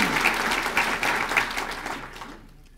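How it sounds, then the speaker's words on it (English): A crowd at an awards ceremony applauds steadily at close range, a dense wash of clapping that fades out toward the end. "we'll give him a round of applause"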